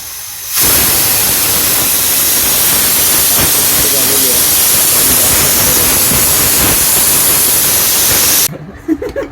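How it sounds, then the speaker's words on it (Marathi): A pressure cooker cooking chicken popati vents through its whistle: a loud, steady hiss of escaping steam lasting about eight seconds before cutting off abruptly. "चार शिट्ट्या झाल्या आहेत पाचच्या शिट्टीची वेट करतो आहे आपण"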